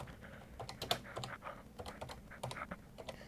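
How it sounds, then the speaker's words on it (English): Keys clatter in a quick, uneven run as someone types on an electronic typewriter with the underline function active, the clicks close and crisp with no voices. "Now, when I type,"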